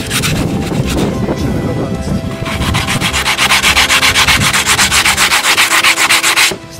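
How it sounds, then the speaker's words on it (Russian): Wet coarse sandpaper rubbed over a red brick, a steady near scraping that turns into fast, regular back-and-forth strokes in the second half. Faint talk sits underneath. "Мочим в воде и наждачкой обтираем, пока не будет выглядеть точно так."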